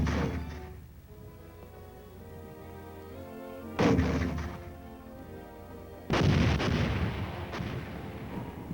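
Army mortars firing during combat training, two heavy booms landing a few seconds apart over a steady low rumble of distant firing, with no voices.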